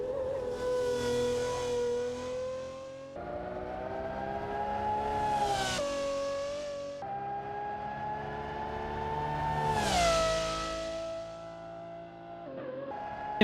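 A car engine revving in the racing game Assetto Corsa, a loud close whine that climbs through the revs, drops at each gear shift and climbs again in repeated pulls.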